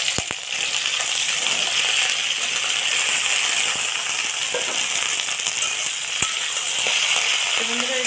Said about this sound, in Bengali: বন্ধুরা এই ঢেঁড়সগুলো ভেজে নেব।